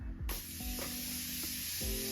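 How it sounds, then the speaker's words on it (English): Morphe Continuous Setting Spray misted onto a face in a few short bursts, a soft close hiss with brief pauses between sprays and no talking. "To set everything, I'm gonna go in with the Morphe Continuous Setting Spray."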